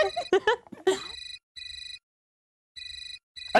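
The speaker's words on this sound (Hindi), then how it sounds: "अरे मॉम का फोन है।" Electronic telephone ringing in bursts with pauses between them, a bright trilling tone that follows a few seconds of voices at the start.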